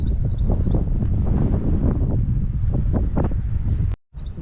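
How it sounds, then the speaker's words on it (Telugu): Strong wind blows outdoors beside a river at Bhairavakona in Andhra Pradesh, a loud, steady rushing and buffeting roar that continues almost without a break and drops out briefly near the end. "గాలి అయితే ఫుల్గా వచ్చేస్తుంది"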